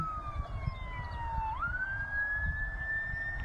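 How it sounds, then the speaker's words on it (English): A single wailing emergency vehicle siren during a tornado sweeps down in pitch, then jumps back up and holds a steady high tone, over a rumbling low background of traffic noise. "You hear the sirens."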